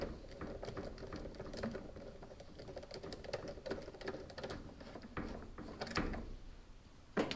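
Clicking, ratcheting turns of a spline screw being tightened on the transmission of a Maytag Bravos steam washing machine, a run of quick close mechanical clicks with a sharper knock near the end, faint and without speech.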